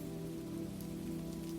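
Soft, steady rain falls outside a quiet Barcelona bookshop at night, a faint, even patter over a low hum with no voices.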